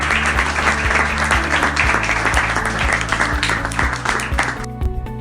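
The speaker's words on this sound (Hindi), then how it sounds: "तो एक बार जोरदार तालियां" An audience applauds loudly and continuously at a televised dental-health program honoring two doctors, with the dense clapping fading out at the end.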